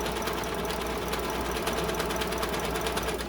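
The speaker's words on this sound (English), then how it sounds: "I'm doing the seam up the side, and then I'll lock in that last stitching seam." A sewing machine runs continuously, stitching the side seam of a fabric face mask tube, giving a steady, fast mechanical whir and chatter at close range with no talk.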